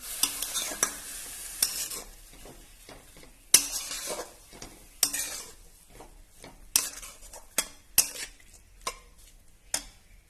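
Dill leaf (shepu) bhaji being stirred with salt in a pan produces a series of sharp spoon scrapes and clinks against the metal, irregularly spaced, over a faint sizzle with quiet gaps between strokes.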